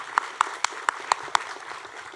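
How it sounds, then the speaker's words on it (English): A few sparse claps ring out at an awards banquet, about six evenly spaced sharp hand claps over a soft room murmur, fading toward the end. "that deserves an applause"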